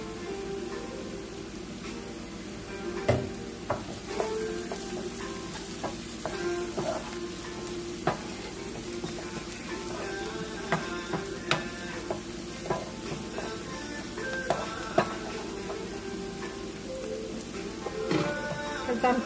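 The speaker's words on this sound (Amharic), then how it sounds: "ይሄን ያህል ሽንኩርቱን ከጠበስኩት በኋላ አሁን ነጭ ሽንኩርቱን ጨምረዋለሁ።" Onion and garlic fry in a pan for chickpea foul, giving a steady soft sizzle broken by frequent clicks and scrapes of stirring, with some faint background noise.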